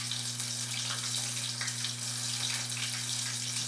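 Tap water runs steadily at a sink while hands are washed after dredging fish in wheat flour, a soft continuous hiss and splash with a faint electrical hum underneath and no voices.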